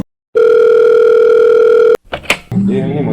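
A phone call's ringing tone, one long loud steady tone lasting over a second after a brief silence, then cut off by clicks and a voice as the call connects.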